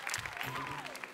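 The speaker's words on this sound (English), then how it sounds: "Round of applause for Minx." Audience applause on a live-streamed show, steady clapping filling the whole short moment with no voices over it.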